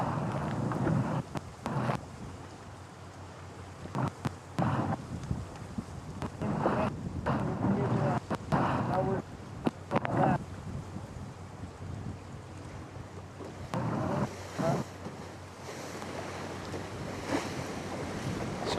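Wind and surf on open water during a Star-class sailboat race at a European championship, a steady rushing wash with gusts buffeting the microphone, while voices talk intermittently over it.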